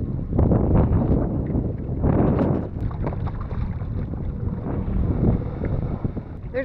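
A boat's outboard motor drones steadily and fairly loud while island hopping in shallow water, with wind buffeting and water splashing over it throughout.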